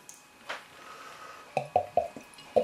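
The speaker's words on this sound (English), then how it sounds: "what a nice sounding glug to the beer" Stout being poured from a bottle into a glass, giving a short run of four or five hollow, gulping glugs near the end after a quiet start with a faint splash.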